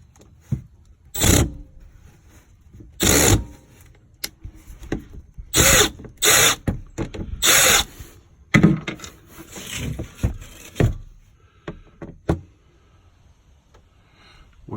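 A power tool spins out the four bolts on a Kawasaki Mule oil filter cover in loud, close bursts of whirring, separated by short pauses and softer handling clatter.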